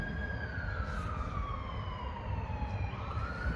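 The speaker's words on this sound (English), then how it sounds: "There's the sirens." A wailing emergency siren sweeps slowly up and down over a steady rumble of traffic, sounding a short distance away.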